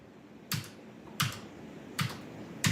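Four sharp, isolated keystrokes on a slightly faulty computer keyboard, spaced roughly evenly apart, each a crisp close click in a quiet room with no talking.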